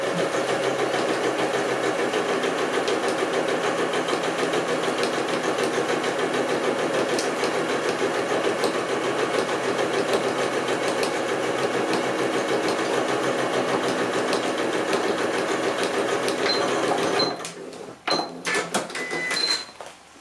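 Electric sewing machine runs a steady, rapid stitch while topstitching the edge of fabric for a coin purse, a continuous close whir that stops near the end, followed by a few light clicks and handling sounds.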